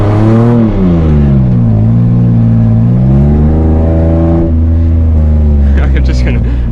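Car engine revving hard during a burnout attempt on a rainy street: a loud, close, sustained drone that climbs, dips and climbs again in pitch without pause.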